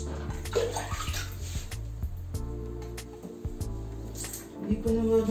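Water poured over a pet during its bath, splashing and running in several pours with short gaps between them, close by, and a voice faint underneath.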